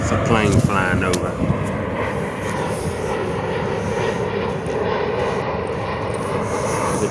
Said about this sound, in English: It's a plane flying over.